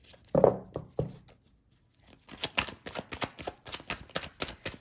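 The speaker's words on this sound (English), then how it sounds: "I'm going to go ahead and shuffle a little bit." A deck of tarot cards is shuffled up close: a few sharp handling snaps, a brief silence, then a steady rhythmic series of soft riffling shuffles.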